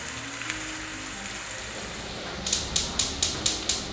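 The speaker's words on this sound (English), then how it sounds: "first you have to do the onion fry." Chopped onions fry in about three tablespoons of oil for an Indian turkey keema, giving a steady soft sizzle that is joined near the end by a run of evenly spaced sharp taps.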